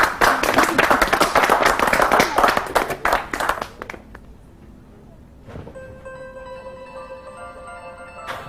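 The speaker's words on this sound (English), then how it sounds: "I think we should all give Simon a round of applause off the trading floor" Office team on a trading floor clapping together, a dense burst of applause lasting about four seconds and then stopping abruptly, followed by quiet room tone with a faint electronic tone.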